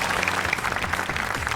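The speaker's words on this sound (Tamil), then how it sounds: "அதுக்கு ஒரு பெரிய கைத்தட்டு கொடுக்கணும்." A studio audience at a TV game show applauds dancers, dense steady clapping filling the whole moment at an even level, with no voices standing out.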